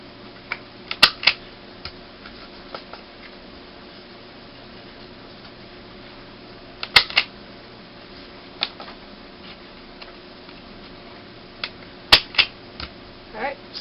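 A corner rounder punch snaps through paper, giving a few sharp isolated clicks spaced several seconds apart over a quiet room hum.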